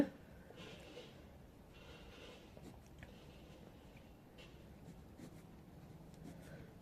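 Pen writing an answer on paper during a maths lesson, a soft continuous scratching close by, quiet and steady with faint breathing.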